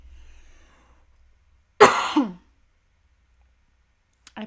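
A single loud cough bursts out close by, rough and breathy with a trailing rasp, followed by near silence and a faint brief click at the end.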